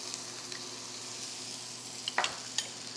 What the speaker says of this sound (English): this is where I want to cook the tomato paste